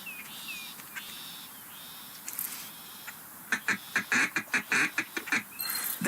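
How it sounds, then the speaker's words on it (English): Duck feed call in the Duck Dynasty video game, a series of short rhythmic quacking notes that build into a quick, loud run of clucks, with a few softer call notes and faint background ambience before it. "See if you can do a couple more feed calls."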